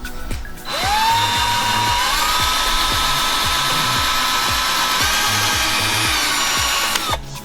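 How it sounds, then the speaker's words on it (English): A power drill spins up and whines steadily at high speed for several seconds drilling through a plastic car splitter, with faint rhythmic knocks underneath, then winds down and stops. "So I'm gonna drill through here."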